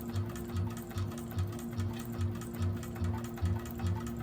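A 1341 cylinder arm sewing machine back stitching while making a bag, running in a steady, even rhythm of rapid stitch pulses over a low motor hum, close and alone.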